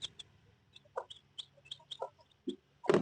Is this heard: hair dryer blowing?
no